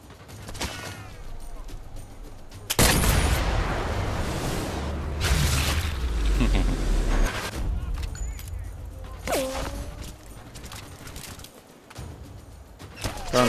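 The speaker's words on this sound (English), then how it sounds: "It's a nice change of pace to work with a sniper rifle." Sniper rifle fire in the VR shooter Sniper Elite VR, a loud broadband burst around three seconds followed by sustained rumbling noise and scattered mechanical clatter, with a later sharp tonal whine.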